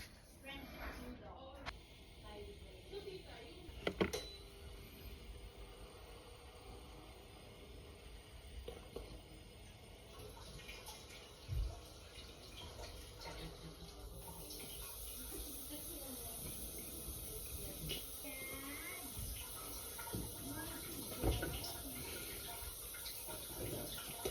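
A Japanese bidet toilet sprays water with a steady hiss that gradually strengthens, close by, with occasional clunks and faint voices in the background.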